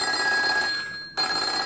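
An old telephone bell repurposed as a doorbell rings with a continuous metallic jangle. It breaks off briefly, then resumes at full strength, close and loud.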